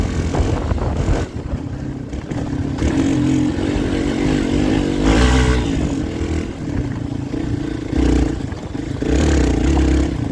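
Hero XPulse 200 4V motorcycle fitted with an MW full-system performance exhaust, ridden off-road up a hill, its engine droning loudly and continuously with surges as the throttle opens, no talking.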